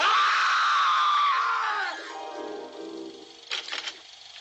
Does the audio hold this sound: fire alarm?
no